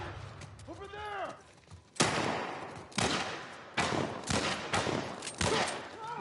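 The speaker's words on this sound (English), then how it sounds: "Nice shooting, Tex" Bursts of gunfire from The Last of Us: a run of loud, sharp shots and volleys starting about two seconds in, with a voice calling out earlier and brief talk mixed among the shots.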